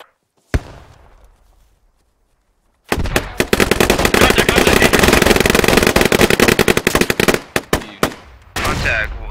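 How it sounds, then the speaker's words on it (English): Dense, loud automatic gunfire in the SQUAD military shooter game, rapid continuous bursts after a single early shot, with a short pause and more shots near the end. "Do we have contact or we're just shooting?"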